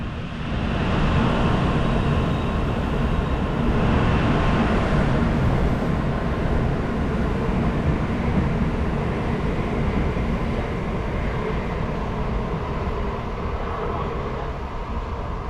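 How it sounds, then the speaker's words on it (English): A Shinkansen bullet train pulls into Odawara Station in Japan, a loud steady rumble and rush of wheels and air that holds for the whole stretch without speech. "Kodama 734 bound for Tokyo is arriving at track number"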